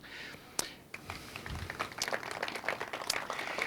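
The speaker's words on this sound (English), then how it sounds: "let's give Pete a big round of applause" Scattered applause from the community audience at a signage recognition ceremony, starting with a few isolated claps and building into steady, moderately loud clapping, with some background voices mixed in.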